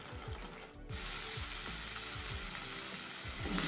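Spiced masala paste with a splash of water sautéed in oil for vegetarian aloo dum, a steady close sizzle with rhythmic scraping strokes of a spatula against the pan throughout, no voices.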